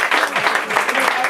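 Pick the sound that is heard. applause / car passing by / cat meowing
applause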